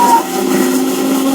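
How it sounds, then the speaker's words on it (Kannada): A kitchen mixer grinder (mixie) runs at full speed while making mushroom biryani, a loud, steady, high whirring whine with a hissing edge that holds throughout, with no talk. "ಮಿಕ್ಸಿ ಆನ್ ಮಾಡಿದ್ದೀವಿ"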